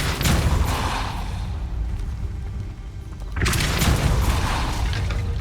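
A Depulso spell blast in the Hogwarts Legacy video game lands as a deep booming rumble, a heavy low impact that fades and then surges again with a second thunderous burst.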